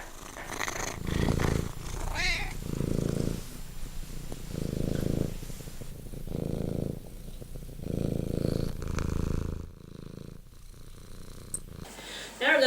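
Male speckled tabby cat purring up close in a rhythmic series of soft rumbling pulses, each breath in and out audible, fairly loud and continuous with no voices.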